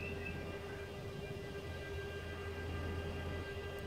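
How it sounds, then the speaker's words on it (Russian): A train stands on the railway near a bridge at Jüterbog, giving a faint, steady mechanical hum with a few even tones and no talking. "Какой-то поезд, состав."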